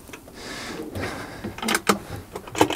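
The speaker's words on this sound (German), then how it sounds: "dass ihr hier vorne ein paar Schubladen habt" Kitchen drawers in a 2021 Westfalia Columbus 540 camper van slide open on deep, full-extension runners: a soft rolling glide followed by several sharp clacks and knocks, close and fairly loud, with no speech.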